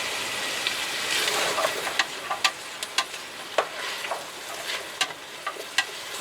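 Celery and onion cook in a pot for chili with a steady sizzle and crackle, punctuated by a series of sharp spattering pops and clicks at close range.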